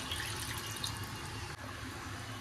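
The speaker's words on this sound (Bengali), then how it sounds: "এবারে আমি জল দিয়ে দিচ্ছি।" Water pouring into a pot of chicken curry as it cooks for a thin red chicken jhol, a steady broadband splashing rush that continues close and loud throughout with no talking.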